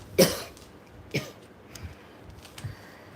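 One sharp cough up front, followed by a few fainter coughs and rough throat sounds spaced out over quiet background.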